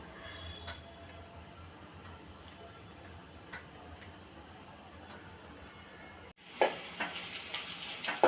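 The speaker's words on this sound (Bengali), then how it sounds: "পেঁয়াজ ভেজে নিচ্ছি।" Onions frying in a pan at home, a faint steady sizzle under a few sharp ticks, then a sudden louder burst of hissing crackle near the end.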